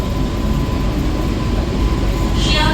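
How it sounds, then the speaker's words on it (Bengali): A train leaving Chakdaha station at speed gives a loud, steady rumble of running wheels and motor that fills the whole clip, with no speech. "ট্রেন আমাদের ছেড়ে দিল চাকদা স্টেশন"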